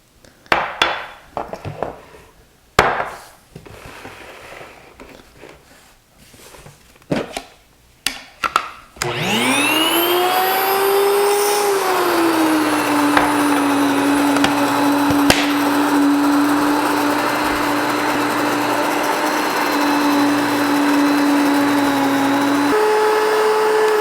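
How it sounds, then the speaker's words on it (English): Grain mill grinding whole rye berries into flour: a few loud knocks and clatters of loading, then the motor spins up with a rising whine and settles into a loud, steady grinding drone. "I just happen to have whole rye berries on hand, so I'm going to run it through my mill"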